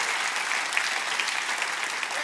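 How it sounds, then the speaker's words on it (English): Steady, dense applause from a church congregation at a Christmas service, sustained and even throughout with scattered sharper claps, fairly close and filling the room. "Can we give a big clap for our Immanuel?"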